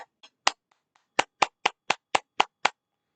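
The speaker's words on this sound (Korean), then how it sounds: "여러분들이 주는 박수를 제가 받겠습니다." A single person claps in a quiet room, first a few scattered claps, then a steady run of about nine sharp, close hand claps.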